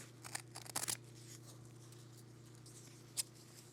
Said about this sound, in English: you cut right through the paper and the felt together.